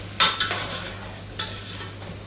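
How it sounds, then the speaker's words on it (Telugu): Chopped carrots and onions fry in a pan for a mutton rice dish, with a steady soft sizzle broken by a few quick scraping stirs of a utensil against the pan. "ఉల్లగడ్డ కూడా వేసి మనం ఫ్రై చేస్తాము ఇది కూడా బాగా ఫ్రై చేసుకోవాలి"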